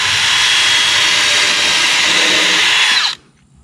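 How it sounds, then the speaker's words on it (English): Power drill with a 1/8 inch bit boring into a wooden grow box leg, one loud continuous high whine held for about three seconds before cutting off abruptly, close and alone. "I'm using the same drill bit, 1/8 inch bit"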